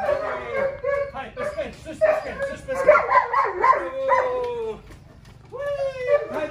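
A dog named as a puppy yips, whines and gives short barks in bursts while climbing a staircase, close by, with a person's encouraging voice talking over it throughout.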